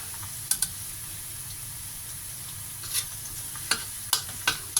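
Green mussels being stir-fried in a hot pan: a steady sizzle runs throughout, with a few sharp utensil scrapes and clicks toward the end. No one speaks.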